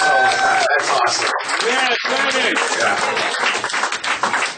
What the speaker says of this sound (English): Another round of applause for Dennis Shea